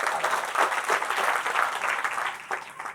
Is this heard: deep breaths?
no